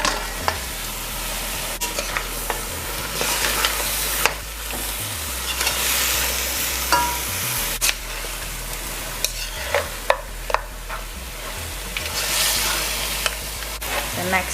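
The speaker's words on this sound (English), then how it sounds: "Now I'll add the meat. I have lamb meat and the roast feet." Lamb meat and roasted feet sizzle loudly in a pot for a lamb pepper pot while being stirred, with steady frying hiss and repeated scraping strokes of the spoon close up.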